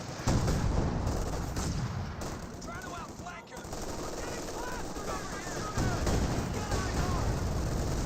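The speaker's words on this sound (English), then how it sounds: "Sherman taking some severe damage from that AP gun." Anti-tank gun fire hitting a Sherman tank in Company of Heroes 2, with repeated booming shots amid rattling machine-gun bursts and battlefield noise, while someone commentates over the action.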